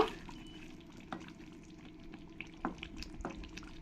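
A katla fish kaliya curry, just dusted with garam masala, is stirred in the pan: a quiet low simmer and sizzle with a few soft spoon scrapes and knocks, fairly faint, no voices.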